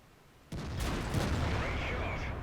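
A tank cannon fires in World of Tanks with a sudden loud boom that rolls on into a sustained rumble, while a voice talks over it.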